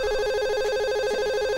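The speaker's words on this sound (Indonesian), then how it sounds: "Sik ono telepon." Telephone ringing with a steady electronic ringtone, loud and continuous tonal pulses filling the short stretch, close by with no talking over it.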